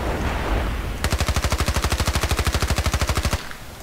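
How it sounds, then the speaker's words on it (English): MP5 fired full-auto from the hip in Battlefield Play4Free: one long, loud burst of rapid, evenly spaced shots lasting about two and a half seconds, with no voice over it. "We're going to begin with hip fire full auto."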